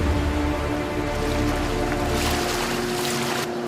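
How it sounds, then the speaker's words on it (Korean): Helicopter rotor downwash churns the water during air force survival training, a constant close roar of wind and spray with a steady droning hum underneath. "프로펠러가 회전하며 만들어내는 강한 바람과 파도"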